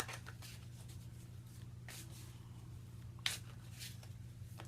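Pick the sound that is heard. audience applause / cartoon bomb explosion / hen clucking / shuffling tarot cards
shuffling tarot cards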